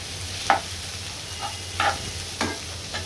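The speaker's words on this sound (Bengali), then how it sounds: "এই যে আমার করলাটা ভাজা প্রায় হয়ে গিয়েছে, একদম ঝরঝরা ভাজি করে নিব আমি।" Bitter gourd nearly done frying in a pan, with a soft continuous sizzle broken by four or five distinct scraping stirs at irregular intervals, close and clear, without talk.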